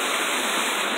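Water runs steadily into a fish pond, a continuous broadband rushing like a small waterfall or stream, near and even in level throughout with no voices.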